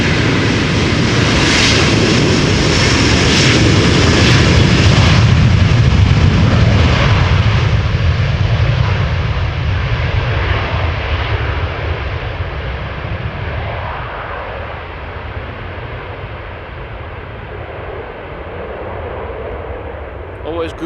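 Jet engines of a Delta Airlines Airbus A330-300 at Amsterdam Schiphol, a loud, broad roar that is strongest early on and then slowly fades as the aircraft moves away.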